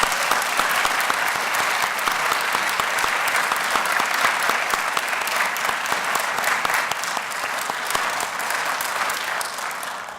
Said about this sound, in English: Please join me in applause for our living treasure, Cheryl.